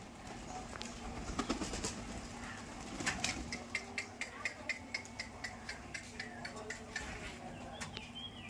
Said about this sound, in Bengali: চেষ্টা করছে কবুতর ধরার জন্যে